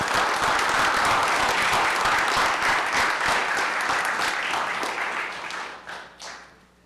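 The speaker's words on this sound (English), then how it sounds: "Let's give him another round of applause." A round of applause at a city council meeting, dense steady clapping from a room of people, loud and sustained before thinning and fading out over the last two seconds.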